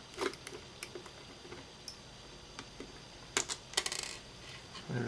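Small screws are worked out with a jeweler's screwdriver from a TP-Link TL-PA511KIT AV500 powerline adapter, giving sparse, quiet metallic ticks and clicks with a brief cluster near the end, and no talking.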